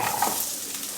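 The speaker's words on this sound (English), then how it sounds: "Now I pour in some chopped onion" Chopped onion hitting a hot frying pan with butter, giving a steady, close, broadband sizzle with a faint scrape of stirring, brief and continuous with no voices.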